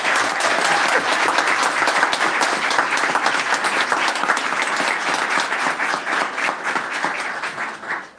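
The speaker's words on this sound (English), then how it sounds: "let's give him a round of applause because he just got a job." A crowd at a board of trustees meeting claps loudly and steadily to honour a man who just got a job, the dense applause sustained throughout before tapering off at the very end.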